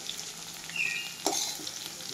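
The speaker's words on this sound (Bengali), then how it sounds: "আমার আলু আর সুতি ভাজা হয়ে গেছে।" Potatoes and suti fish fry in hot oil with a loud, continuous sizzle, broken by a couple of sharp metallic clinks as the pieces are lifted out.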